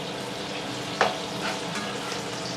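Courgettes frying in a pan in chorizo oil alongside chorizo and bacon, giving a steady close sizzle with one brief sharp clatter near the middle and no voices.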